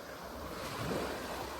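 Waves washing in at the water's edge on a Scottish shore, a steady broadband wash with a gentle swell near the middle, mixed with wind rumble on the microphone and no talking.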